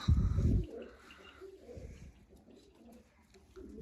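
Pigeons coo in a domestic loft with low, soft, repeated rounded calls. A loud thump or rustle comes near the start, and quieter coos follow at intervals, fairly close.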